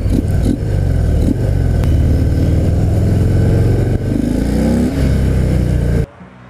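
A Harley-Davidson FXDR 114 motorcycle on a test ride gives a loud, close, deep engine rumble that swells under throttle. It runs steadily for about six seconds, then cuts off abruptly.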